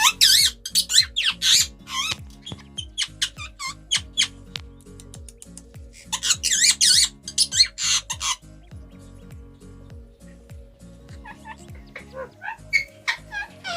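A male pet parrot, ringed at the neck, gives bursts of harsh, loud squawks in irregular clusters, with quieter chatter and short pauses between calls, close to the listener.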